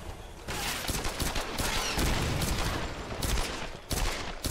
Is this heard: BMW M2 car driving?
no